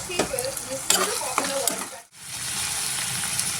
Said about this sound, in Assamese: এনেই বিলাহী পিঁয়াজ মানে তেনেকৈ অলপ ভাজি লৈছোঁ